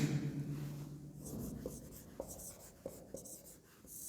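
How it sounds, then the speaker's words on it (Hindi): A black marker writing on a board, faint scratchy strokes in short bursts with quiet clicks between them, close and soft with no talking. "चलिए हम लोग ब्लैक से लिखते हैं"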